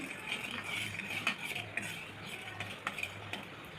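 Spoon stirring egg masala with chili powder and salt in a metal pan, a soft continuous scraping with light clinks of utensil against the pan, quiet and close, no voices.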